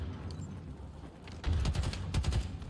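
Disruptor weapon firing in the video game Halo Infinite, heard as a quiet scatter of shots that builds into a denser, louder burst of rapid discharges in the second half.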